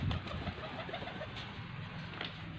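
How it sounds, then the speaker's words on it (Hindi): A white pigeon coos softly with low, throaty murmurs, part of a pigeon loft in Faisalabad, heard close amid a faint, steady background hiss and no talking. "ये जनाब वाइट कबूतर है"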